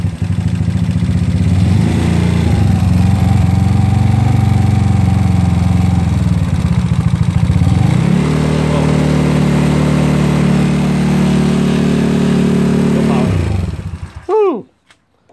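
A GY6 scooter engine fitted with a 30mm carburetor revs up loudly and steadily, holding a high drone that shifts pitch mid-way before dropping off abruptly near the end.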